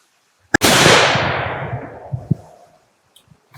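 A rifle shot during recoil testing cracks sharply and loud, followed by a long rolling echo that fades over about two seconds, with faint handling clicks afterward.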